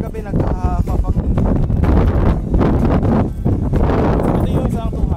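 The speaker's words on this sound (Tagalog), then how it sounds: "Maririnig nyo naman dito yung weather ba, mahangin" Strong wind gusting outdoors on an open plot of land, loud buffeting rumble across the microphone in uneven surges, continuous throughout.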